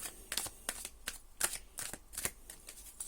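Tarot cards are shuffled in a steady series of soft riffling flicks, close and fairly quiet, with no talking.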